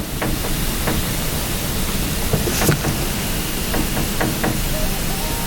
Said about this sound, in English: That was an earthquake.